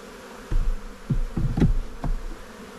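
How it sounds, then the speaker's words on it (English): A swarm of honey bees buzzing inside a box, a low hum with several louder bumps and knocks against the box, heard up close. "Man, that's a lot of bees in this box."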